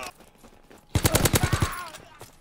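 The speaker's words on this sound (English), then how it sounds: "Okay, stupid shotgun." Shotgun fire in the World War II shooter Call of Duty: WWII, a rapid burst of about seven loud, close blasts packed into under a second after a quiet stretch.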